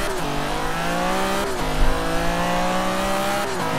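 An upgraded barn find car accelerating in Forza Horizon 3, its engine note climbing steadily through gear changes with short breaks between pulls, loud and close.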